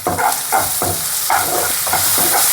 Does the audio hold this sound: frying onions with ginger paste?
yes